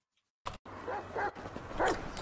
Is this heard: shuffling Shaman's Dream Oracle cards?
no